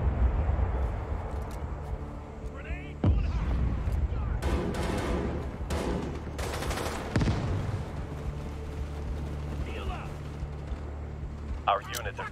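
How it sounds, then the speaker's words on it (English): Gunfire and an airstrike in the video game World War 3: sharp loud bursts and booming impacts break over a rumbling low battle bed, with voice chatter in between. "Friendly airstrike incoming"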